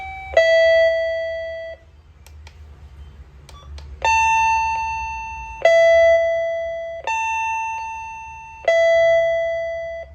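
An electronic video intercom doorbell ringtone plays a melodic sequence of clear tones, then repeats a two-note ding-dong pattern several times, loud and close.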